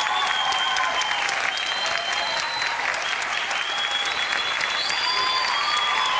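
A television talk-show studio audience applauds steadily and loudly throughout, a thick even wash of clapping with faint tonal sounds running beneath it.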